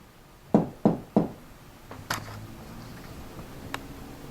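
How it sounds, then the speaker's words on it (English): Three sharp knocks land in a quick even sequence, close and loud, in a quiet room during a ghost hunt at the Palmer House, followed by a few fainter taps and ticks. "Can you do a knocking noise like this?"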